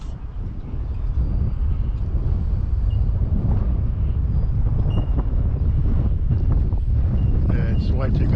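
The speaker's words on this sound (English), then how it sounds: "Yeah, it's way too gusty, that's why." Gusty wind buffets the microphone at an outdoor model-aircraft flying session with a Freewing PJ50T private jet RC plane, a steady loud low rumble throughout with faint higher sounds in the background.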